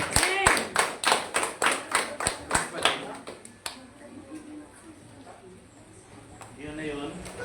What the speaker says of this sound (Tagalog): palakpak po sa Panginoon na sa buhay ni Pastor Benji Villejo.